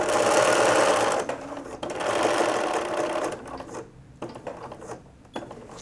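A sewing machine stitches around the edge of a pillow, running loud and fast with a steady mechanical whir, then slowing into shorter, quieter bursts with brief stops.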